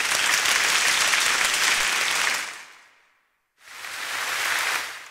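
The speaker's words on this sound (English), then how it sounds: "The applause sound." Applause preset on a Yamaha Genos keyboard: a crowd clapping loudly for about two seconds, tapering to silence, then a second burst of applause swelling and fading, no speech.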